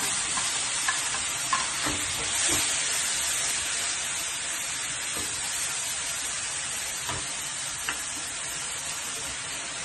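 Cumin and chillies sizzling steadily in hot oil over a low flame, a continuous close hiss with a few soft stirring clicks and no talking.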